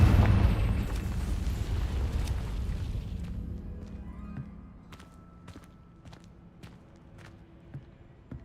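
Confringo spell blast in Hogwarts Legacy: a loud, heavy explosive boom at the start that rumbles and fades over several seconds, followed by scattered small pops and crackles.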